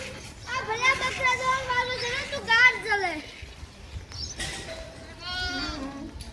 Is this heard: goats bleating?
yes